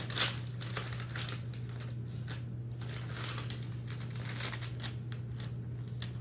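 Stickers are handled close up, with quiet crinkling, rustling and light papery clicks in irregular bursts over a steady low hum.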